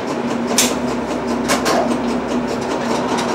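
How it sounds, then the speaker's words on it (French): A small electric model train hums and rattles as it gets moving at a railway museum, with a steady motor whine and a few clicking bursts. "Je vais faire partir mon train"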